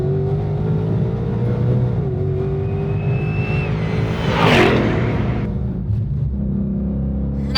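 A Ford Mustang GTD, a street-legal track car, accelerates on a race track, its engine rumbling loudly and pitch rising through the gears before a sharp whoosh as it passes close by.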